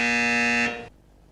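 Quiz buzzer at a national school quiz semi-final, a loud steady electronic tone holding for about two thirds of a second, then cutting off and leaving near silence.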